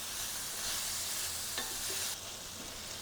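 Onions cooking in a pot for ropa vieja hiss with a dense, steady sizzle, close and even, with a faint clink of stirring partway through.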